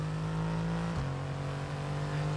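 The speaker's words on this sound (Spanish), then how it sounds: "cómo suena el coche" A Mercedes AMG Petronas Formula 1 car in the racing game F1 22, driven at the Canada circuit, screams with a steady high-pitched engine note that briefly drops as it shifts gear, then holds on.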